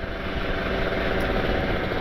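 A Kawasaki Ninja RR motorcycle fitted with an ABRT20 exhaust runs with a raspy, steady engine drone, fairly close and unbroken by talk.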